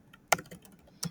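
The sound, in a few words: typing on a computer keyboard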